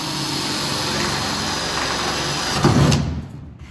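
A power drill bores pilot holes into spot welds on a 1969 Pontiac Firebird quarter panel, a steady close motor whir with a brief grinding bite near the end before it cuts off abruptly.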